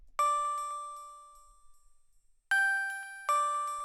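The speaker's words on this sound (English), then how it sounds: "The next sound I went with was a bell." Synthesized bell tones ring out in a short, simple melody, bright chiming notes that decay slowly between strikes, with a pause before the final phrase.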